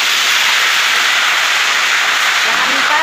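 Loud, constant hissing sizzle of food frying in hot oil, dense and close without pauses.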